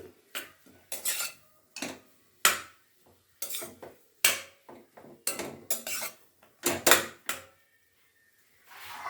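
A metal spoon stirs potato filling with garam masala in a pan for masala dosa, producing sharp irregular clinks and scrapes against the pan, separated by short quiet gaps.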